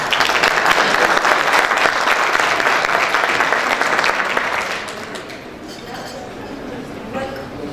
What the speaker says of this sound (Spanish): Les pido lo recibamos con un fuerte aplauso